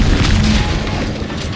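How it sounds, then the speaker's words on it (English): A loud, deep explosion in the video game Outer Worlds 2, a heavy low rumble that fills the whole short stretch and fades only slightly toward the end. "What's that? An explosion?"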